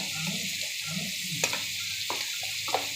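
Large prawns frying in hot oil in a home kitchen pan, a steady soft sizzle throughout with a few sharper crackles and stirring clatters, no voices.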